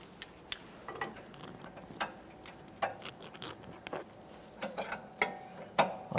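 A ratchet with a T40 bit and a 17mm socket works on the sway bar link hardware of a 2014–2019 Toyota Corolla, producing faint, close, irregular clicking in short runs, with no talking.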